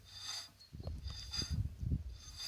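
A wheel hub with a freshly rebuilt brake caliper and greased pads is spun by hand, giving soft rubbing, scraping turns in short uneven bursts, close and fairly quiet.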